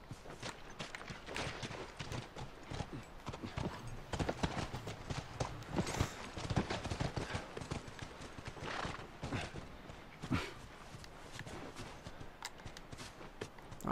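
Horse hooves clip-clop steadily in The Last of Us video game, with occasional neighs over a busy, fairly faint background and no speech.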